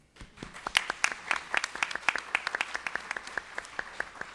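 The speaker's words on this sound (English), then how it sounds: "a warm round of applause" A modest round of audience applause at an afternoon leadership summit session, individual claps sharply audible, peaking early and thinning toward the end, with no talk over it.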